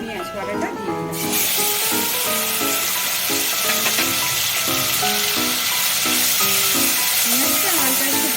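Onion paste hits hot oil with bay leaf, dried chilli and cardamom, bursting into a loud, steady sizzle that runs unbroken, with a voice talking over it.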